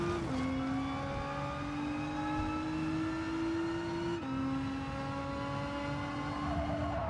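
A race car engine in Gran Turismo 7 holds a steady high whine with faint harmonics, dipping briefly as if shifting gear before climbing again, continuous and fairly quiet.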